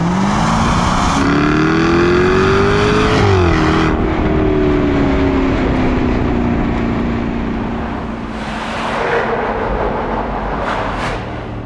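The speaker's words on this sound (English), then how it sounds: "now I'm sitting in an F-Type and I'm just pounding it around some corners" A Jaguar F-Type R Dynamic driven hard through corners, its loud engine climbing in pitch, dipping at a gear change, then holding a sustained roar that eases and swells again as it comes out of the bends.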